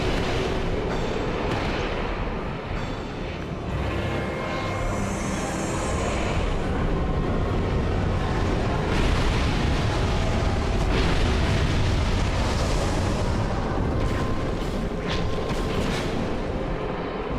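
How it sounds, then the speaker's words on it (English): An explosion in Dark Souls 2 during the Nashandra curse fight: a loud, rumbling, roaring blast that stays heavy and sustained for the whole stretch, with no talking. "Gonna explode."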